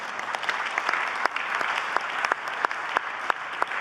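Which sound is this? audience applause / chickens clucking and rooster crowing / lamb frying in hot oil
audience applause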